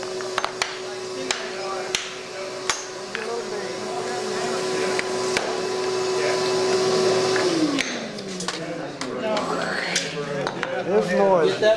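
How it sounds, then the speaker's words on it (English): A vacuum cleaner drones steadily with a constant tone, then winds down and its pitch drops near the end, set among boat-building work with clatter and scattered ticks, and people talk over it. "All vacuums are noisy, man."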